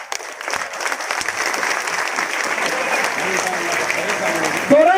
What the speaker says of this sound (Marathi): एक मिनिटासाठी आणि वर टाळ्या वाजवूया